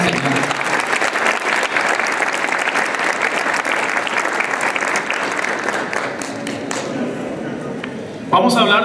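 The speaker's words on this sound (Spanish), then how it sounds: "démosle un aplauso a esta segunda enseñanza" A church congregation gives a long round of applause after a second religious teaching, dense clapping from many people, loud and sustained, thinning a little near the end before a sharper burst.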